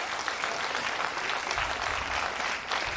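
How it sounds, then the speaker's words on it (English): Sustained applause fills a registrars' conference hall, an even wash of many hands clapping throughout, with a faint murmur of the crowd beneath. "a round of applause for that"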